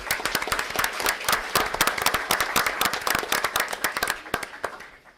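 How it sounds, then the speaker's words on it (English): An audience at a school board meeting claps for honored high school students, loud and fairly close, a brisk run of individual hand claps that gradually thins out and fades. "how about a round of applause for them"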